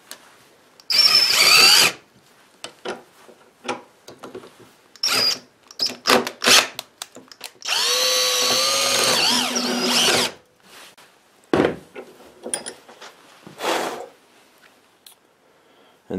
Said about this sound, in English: And then this is a 9/16 drill bit.